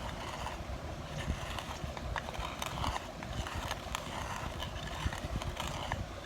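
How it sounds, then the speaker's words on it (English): A spoon repeatedly scrapes and clatters against a container as a mixture is stirred counterclockwise, giving a continuous gritty rhythmic scraping that sits close and moderately loud, without talk. "I'm mixing it in a counterclockwise motion to remove and repel."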